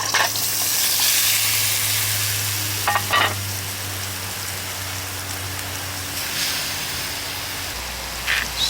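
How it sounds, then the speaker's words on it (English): Steak fries in oil in a camp skillet outdoors, giving a dense, steady crackling sizzle like rain on a surface, close and continuous, with a few sharper pops and clinks along the way. "get my steak cooking"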